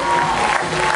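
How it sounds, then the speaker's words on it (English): A brief burst of loud audience applause and cheering at a dance competition, greeting the senior dance soloists. "Big round of applause for all of our senior dance soloists."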